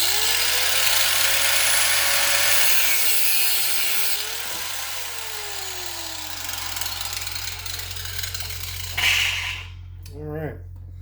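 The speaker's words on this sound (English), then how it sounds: "So I like to use cutting wheel." A cutting wheel grinds through stainless and nylon braided AN hose with a sustained loud whine whose pitch shifts as it bites, then winds down, leaving brief clatters and handling noise.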